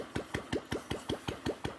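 An old Royal Enfield Bullet motorcycle engine ticks over at idle with slow, evenly spaced single-cylinder thumps, heard up close and on its own.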